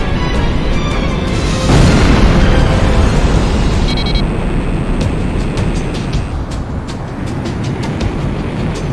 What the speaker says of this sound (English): They're going to fire the shock cannon? They plan to fire it like that?